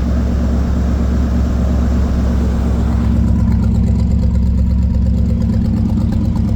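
A Buick 455 V8 idles steadily and loudly with a deep, constant rumble that barely changes across the stretch, with no voices over it.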